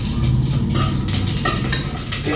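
Bay leaf, cinnamon, cloves and fennel seeds are stirred in hot oil in a cooking pot, giving a steady scraping, clinking rattle with a faint sizzle underneath, close and continuous throughout.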